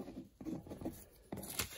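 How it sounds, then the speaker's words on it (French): A pen scratches a first name onto paper in short quiet strokes with small pauses, close up and faint, no voices. "On écrit le prénom de la personne."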